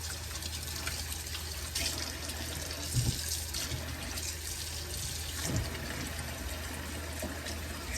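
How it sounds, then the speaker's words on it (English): Tap water runs steadily into a kitchen sink as fish that has soaked in salt and lemon juice is rinsed, a continuous close splashing rush with no talking. "my fish has been soaking in the salt and lemon juice for 10 minutes now, and I'm going to rinse it out"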